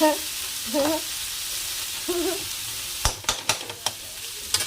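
Food frying in a pan sizzles softly beneath a few sweet vocal tones from a nearby voice, then sharp scraping clicks of a spatula stirring break in near the end.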